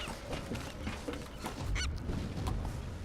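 Seabird calls in the Tomb Raider (2013) video game, a few loud honking, goose-like cries rising over a steady wash of ambient noise, with no talking.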